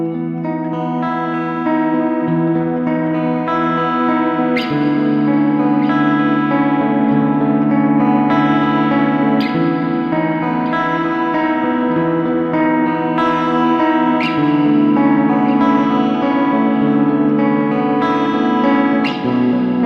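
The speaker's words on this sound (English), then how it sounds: "you need to place the delay before the reverb, so the repetition tails go into space, which will create a more clear sound" Electric guitar run through a delay followed by reverb in the Cardinal modular environment, playing sustained chords with soft repeating echo tails and a wide ambient wash, loud and continuous throughout with no talking.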